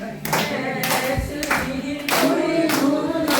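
Rhythmic group hand clapping keeps a steady beat alongside hymn music and singing voices at a street evangelism gathering in a senior center, loud and close throughout.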